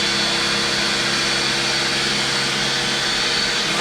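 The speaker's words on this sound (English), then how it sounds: "So we've got just our little ninja blender here, and he's starting off slow." A small Ninja blender whirs loudly and steadily, blending hot carrot ginger soup with coconut milk, a dense continuous motor roar close up with no speech.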